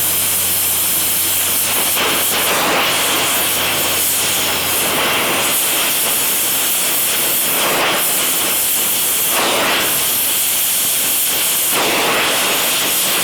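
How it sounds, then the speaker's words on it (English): Welding a heart-bar insert in a horseshoe gives a loud, continuous hiss and crackle with several brief swells and breaks, close and sustained for the whole stretch with no voices. "So I always weld this part right here in the middle."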